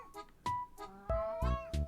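A cat meows several times in short, close, fairly loud calls, some drawn out and rising, with no talking over them.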